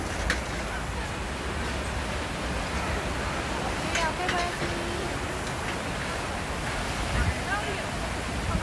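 Steady broadband rush of flowing water outdoors on a sunny day near bonsai plants, continuous and fairly close, with faint voices mixed in.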